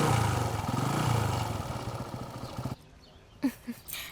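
Motorcycle handed over in a comedy scene from a Hindi-dubbed South Indian film, engine chugging with a rough idle and revving for about three seconds before cutting off, followed by a couple of short knocks.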